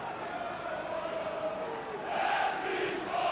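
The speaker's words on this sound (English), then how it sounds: "the Spurs crowd really getting behind their team" Football crowd at a Tottenham Hotspur v Feyenoord match, a steady roar of supporters that swells louder toward the end, with match commentary talking over it.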